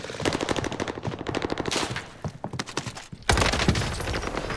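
Rapid automatic gunfire from Call of Duty Warzone Pacific on the Caldera map, a long burst of evenly spaced shots, then a short pause with scattered single shots and a loud sustained blast near the end, with no talk.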